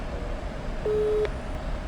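A phone call's ringing tone sounds as one short, steady beep of about half a second, moderately clear over a constant background hiss and rumble.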